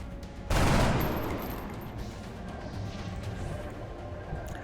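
A burst of ballistic weapon fire in the strategy game XCOM Long War hits sharply as one loud broadband blast, then decays into a sustained rumbling roar with scattered crackle and no voices.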